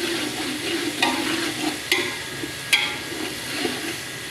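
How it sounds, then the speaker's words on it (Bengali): Spices stir-fried in a pan for a Bengali bachelor-style Malabar spinach (pui shak) dish, with a steady low sizzle and a few sharp scraping clicks of the spatula against the pan. "মশলা কষানো হয়ে গেছে"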